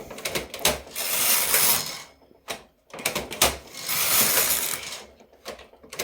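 A knitting machine carriage slides back and forth across the needle bed in two long passes, each a rattling mechanical sweep of clicks that swells, stops, and then runs again.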